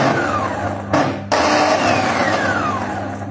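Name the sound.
Tornado food processor motor knocking from worn bearings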